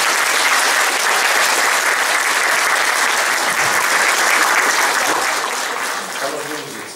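Dense, sustained applause fills a hall at a twentieth-anniversary event for a municipal brass band in Gołkowice, the clapping audience loud and even before fading near the end.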